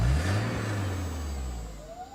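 An electric vehicle drives past as a radio-ad sound effect, a smooth rising-then-fading whine with low rumble, moderately quiet and alone without talk.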